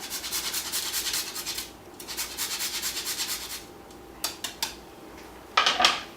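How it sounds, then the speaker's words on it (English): Fresh nutmeg is rubbed against a grater in quick rasping bursts of scraping strokes, pausing between runs, followed by a few light metallic clinks near the end, all close and without talking. "I'm also going to grate some fresh nutmeg."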